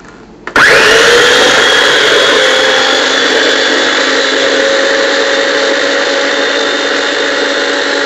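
Tomatoes are blended into purée in a food processor that starts abruptly and runs at a loud, steady whir for several seconds, with no talking.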